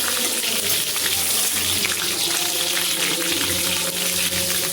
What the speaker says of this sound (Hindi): थोड़ा गोभी में पानी रह जाता है तो खटकने लगता है।